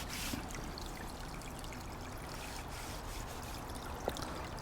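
Water pours steadily into an outdoor goldfish tank, a soft continuous trickling stream heard alone at low level with a faint splash or two.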